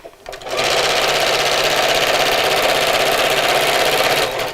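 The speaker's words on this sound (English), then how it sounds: "So grab hold of those and just sew straight across." A sewing machine runs continuously, stitching straight across the seam of a Christmas bag with a loud, even mechanical whir that starts up quickly and stops cleanly at the end.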